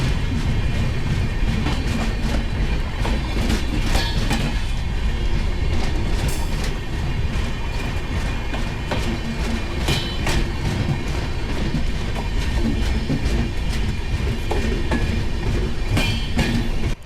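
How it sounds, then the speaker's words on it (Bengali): Sairang Express train wheels clatter steadily over the rails on a Guwahati to Mizoram run, a loud, continuous rolling rumble with rhythmic clicks and occasional sharper knocks throughout. "আমার এই রেলগাড়ির চাকার আওয়াজটাই বেশি ভালো লাগে"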